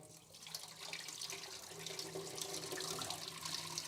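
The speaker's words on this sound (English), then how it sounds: "I'm going to pour it out in 3, 2, 1." Liquid poured out of a film developing tank while developing 35mm color film, a steady continuous splashing stream at close range that runs the full length without talk.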